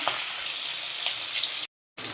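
Pieces of pomfret fish sizzle steadily in hot oil, a close, continuous crackling hiss with a brief silent gap near the end before the frying resumes.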